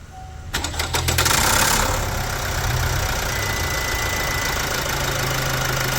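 Turbocharged Opel Astra K engine cranks and catches after a turbo wastegate repair, then settles into a steady, loud idle close by, with a faint knocking rattle under the running engine.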